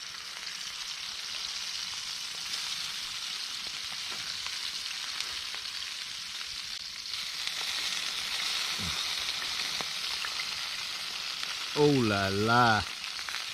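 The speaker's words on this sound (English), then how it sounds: "Now we're gonna chuck the steak, mushrooms and the burgers in there, and that's gonna cook off of the bacon fat." Steak, mushrooms and burgers sizzle steadily in bacon fat over a campfire, a constant close frying hiss with a brief voice exclaiming near the end.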